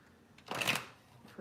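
A quick riffle of tarot cards being shuffled, a short papery flutter lasting about half a second, close and fairly quiet.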